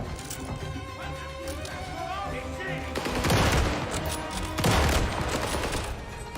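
Mounted weapon firing in Call of Duty Vanguard's Stalingrad mission, two heavy bursts of rapid gunfire cracking loudly over a steady background of battle noise.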